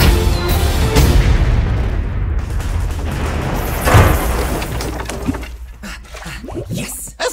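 A bomb blast effect from an Addams Family trailer lands as a heavy boom with rumbling debris that slowly fades, ending in a few scattered small pops.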